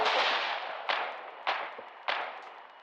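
Frag grenades explode in quick succession in a war video game around a sandbag wall, with a large initial blast followed by three sharp bursts about half a second apart, each trailing into a rumbling decay.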